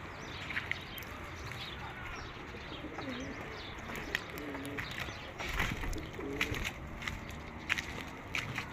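Homing pigeons in an aviary coo in low, rolling bursts, close and repeated, with light chirps and scuffling around them.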